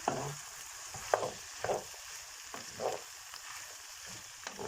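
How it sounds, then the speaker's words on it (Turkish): Red pepper flakes are stirred into onions and peppers frying in a pan for green bean kavurma, a steady close sizzle broken by several rhythmic scraping strokes of the spoon, with no talk. "iki çay kaşığı pul biber ilave ediyorum. Ve güzelce birbirine geçmesini sağlayalım. Soğanımızla biberimizle buluşsun."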